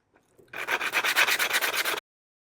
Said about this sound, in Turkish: Şimdi zımpara işlemine başlayacağım.